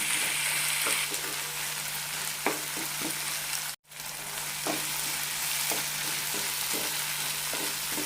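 Tomatoes frying in oil for a mustard tomato chutney, a steady close sizzle with scattered stirring scrapes and one brief dropout midway, no talking.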